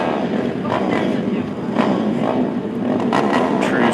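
Several ATV engines rev and drone continuously at a spec tire race, a loud, dense engine roar with rising and falling surges.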